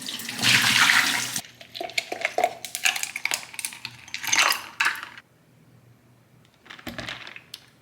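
A new water bottle is rinsed and filled at a tap. Water gushes loudly at first, followed by clinks and knocks of the bottle and its parts, then a quieter pause and a final short rattle, all nearby and without talking.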